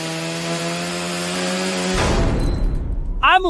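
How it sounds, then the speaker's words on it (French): An electric saw cuts into a steel door, first a sustained whining tone with strong harmonics, then harsh broadband grinding and scraping, close and loud, before a voice speaks briefly at the end. "il coupe la porte avec des scies électriques et des pinces hydrauliques"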